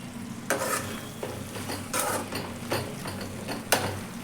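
Spoon stirring coriander-cumin powder into a flat bean gravy in a pan, with scraping strokes at an irregular rhythm over a gentle sizzle, close and moderately loud.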